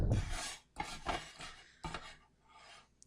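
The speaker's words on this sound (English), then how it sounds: "So I'm just going to scrape down the sides of the bowl." A spatula scrapes the sides of a mixing bowl holding a grainy sugar paste for lemon poppy seed cookies, giving several close, rasping strokes in short bursts with brief pauses between.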